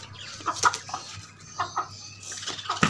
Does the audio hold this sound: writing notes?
no